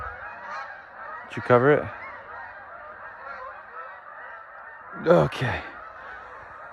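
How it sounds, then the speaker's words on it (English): Two loud bursts of geese honking, close by in the woods of western New Brunswick, Canada, separated by a few seconds of quiet, with a person speaking briefly in between. "it sounded like a lot of geese"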